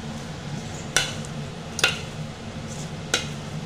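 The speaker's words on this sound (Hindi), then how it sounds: "अब मैं इसे अच्छे से मिक्स कर ली।" Mutton being mixed with oil, garlic, ginger, onion and spices in a handi: a low wet background with three sharp scraping clinks of a utensil against the pot, spaced about a second apart, close by and without talk.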